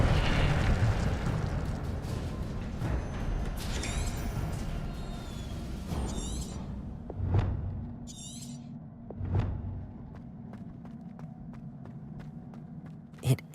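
An Incendio fire spell is cast in Hogwarts Legacy: a sustained roaring, rumbling blast gives way to several sharp fiery bursts spaced a couple of seconds apart, with a final crack at the end.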